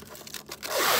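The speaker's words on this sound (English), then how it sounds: "This is like some type of Velcro." Velcro on a hidden gun storage panel being pulled open, a short run of scratchy tearing and rubbing that ends in one louder, sustained rip, close and alone.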